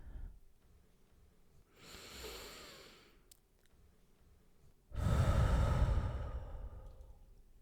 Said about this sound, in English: You breathe.